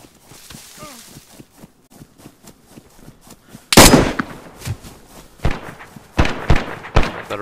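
Gunfire from the video game DayZ on a deathmatch community server, several loud sharp shots bursting out mid-clip after quieter game sounds, with someone talking over parts of it.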